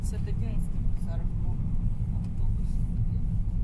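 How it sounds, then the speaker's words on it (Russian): A bus rumbles past outdoors near a village school, a steady low engine roar that swells and lingers, with voices talking over it. "Автобус."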